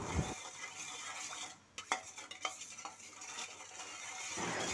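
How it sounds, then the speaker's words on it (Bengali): A spoon stirs powdered sugar into a bowl mixture for an eggless, yeastless sweet bread. The scrapes and taps come close and fairly quiet, in a loose irregular rhythm over a soft background hiss, with no talking. "চিনিগুলো চামচ দিয়ে খুব ভালো করে গুলে নিলাম"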